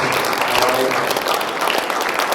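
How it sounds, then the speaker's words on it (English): At a high school football banquet, a room of people claps for the parents, a brief, dense round of applause with some murmured voices mixed in. "Let's turn and clap toward the camera there for the parents."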